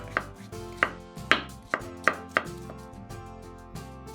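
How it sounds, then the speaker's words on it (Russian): A knife chops washed champignon mushrooms into rough pieces on a board, giving six or so sharp, evenly spaced chops that fade into lighter taps, close up with no talking. "500 грамм шампиньонов моем, разрезаем пополам и нарезаем произвольными кусочками."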